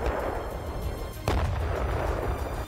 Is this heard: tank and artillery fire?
yes